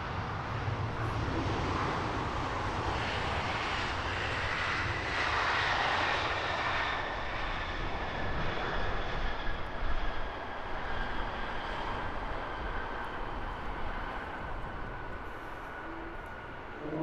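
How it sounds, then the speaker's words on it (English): Qatar Airways Airbus A350-900 landing on the north runway at Heathrow, a sustained jet roar with whining engine tones, moderately loud and steady throughout, fading slightly toward the end with no talk. "Qatar Airways A350-900 next in on the north side"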